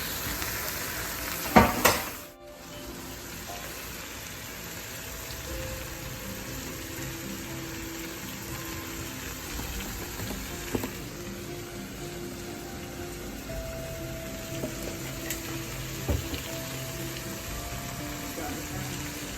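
Kale and bacon sizzle and fry in a pan, a steady close crackle with occasional stirring clatter and a sharp knock near the start.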